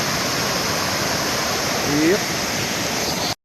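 Small creek crossing a trail on the Appalachian Trail, its water flowing in a steady, close rushing wash; someone briefly speaks over it.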